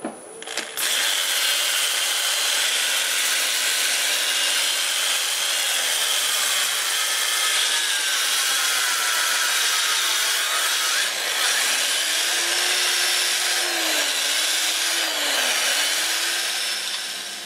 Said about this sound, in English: I'm going to start with 220 and I'll sand up through 400, have the lathe in reverse at 400 RPM.